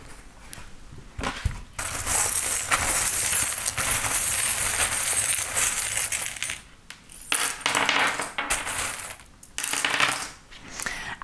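Small metal divination charms rattle and jingle as they are shaken, a bright busy clinking that runs for several seconds, then pauses and resumes in shorter bursts before clattering down.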